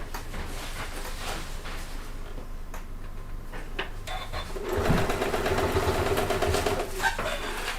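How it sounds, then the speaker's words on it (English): A domestic sewing machine runs a steady stitching burst along a crease in a fabric convertible bag, starting midway with a fast mechanical hum, close and fairly loud, after quieter handling noise. "make sure you're only sewing in that crease"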